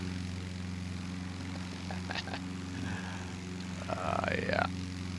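A simulated Carenado PA-31 twin propeller plane drones in a flight simulator game, its engines giving a steady low harmonic hum with a slight rise near the end, while faint brief voices are heard.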